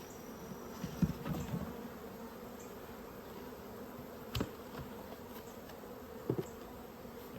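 Honey bees buzz around mini mating nucs being smoked, a low steady drone with a few brief closer bumps and knocks, no voices.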